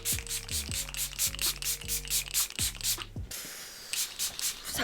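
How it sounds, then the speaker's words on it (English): Huda Beauty makeup setting spray gives a short, close hissing burst near the end, following a stretch of background music with rhythmic rubbing and clicking sounds. "Final thing, we're going to finish with some setting spray."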